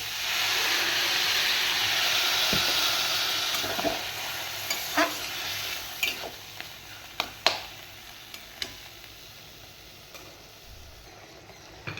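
Banana flower curry stirred in a pan over a steady sizzle, with scraping strokes and a few sharp clacks of the spoon against the pan, the frying hiss fading as water goes in.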